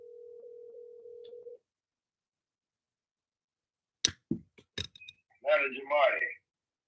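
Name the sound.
telephone dial tone while calling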